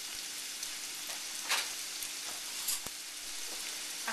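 Onion frying in a pan for scalloped potatoes, a continuous close hiss and crackle of sizzling oil with occasional sharper pops and stirring ticks, steady throughout with no voices.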